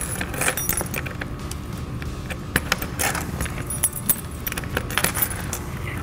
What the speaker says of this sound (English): make sure to reinstall the fuel cap nice and tight with the key provided